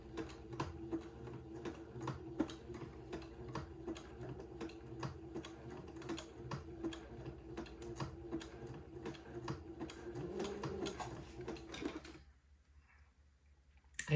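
A sewing machine zigzag-stitching narrow lace onto entredeaux beading, its needle clattering in a fast, steady mechanical rhythm before it stops abruptly near the end.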